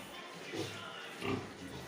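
Pigs on a farm grunt in two short, low oinks about a second apart, fairly close and moderately loud, with someone talking faintly in the background.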